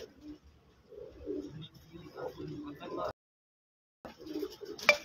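Pigeons on a rooftop in Faisalabad coo in soft, low repeated phrases, fairly close, mixed with people talking nearby; the sound cuts out briefly near the end before the cooing returns.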